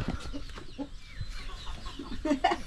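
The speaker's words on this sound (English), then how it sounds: "So we got some chickens." Chickens, including roosters, cluck in short irregular bursts at close range on a farm in Ubon Ratchathani, Thailand, with faint background noise around them.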